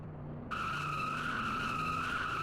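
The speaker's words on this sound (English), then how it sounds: "Doing the burnouts near the Q brick." Race car number 81 doing burnouts near the Q brick, a sudden loud tire screech cutting in and holding steady over the low engine drone, no voices present.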